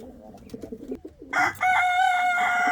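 Indian fantail pigeons in a loft, with low soft cooing and bird calls under mixed noise, followed by a loud sustained harsh tonal sound during the final half.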